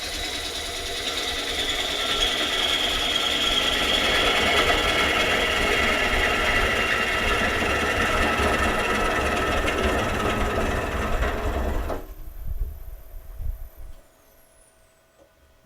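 A lathe gouge makes a roughing cut across the bottom of a chainsawn wood blank, flattening it. The cutting is a loud, steady, broadband rush with a low motor hum under it for about twelve seconds, and then it drops away to near silence.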